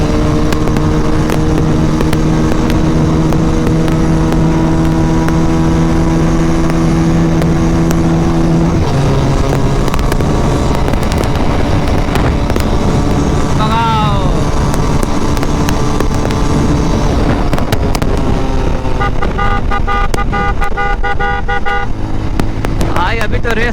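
Yamaha R15 and Pulsar 220 motorcycles racing on an open road, their engines droning loudly and steadily with rising and falling revs, horns tooting toward the end, and voices talking over the noise.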